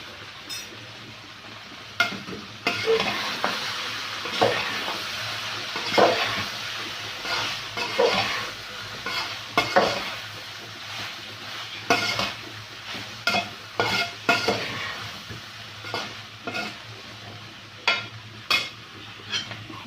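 Vermicelli is stirred and sautéed in a hot pot, its steady sizzle broken by repeated scraping strokes of the spoon that come in an uneven rhythm, close and fairly loud, with no speech.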